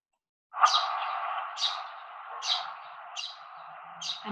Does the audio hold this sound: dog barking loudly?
no